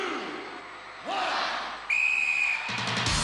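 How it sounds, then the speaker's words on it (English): A referee's whistle starts a 1994 Gladiators UK celebrity challenge event, blowing one sustained, shrill blast over a loud arena crowd. "Gladiators, you will go on my second whistle."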